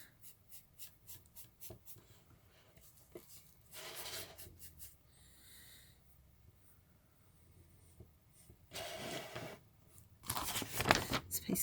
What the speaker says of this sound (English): Just going to start shading around again. My little choppy